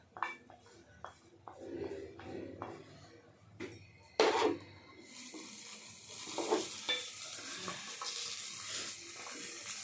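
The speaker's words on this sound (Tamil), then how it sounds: "இங்கே நல்லா குழம்பு நல்லா கொதி வந்துருச்சு." Fenugreek kuzhambu cooks in a pot: a few soft clatters of stirring, then a broad, steady bubbling hiss takes over and holds to the end.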